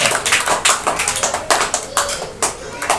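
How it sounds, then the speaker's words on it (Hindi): Children in a Hindi-medium maths class clap in short, uneven bursts of a few hands, fairly close, with faint murmuring voices underneath. "वेरी गुड, ताली तो बजना चाहिए।"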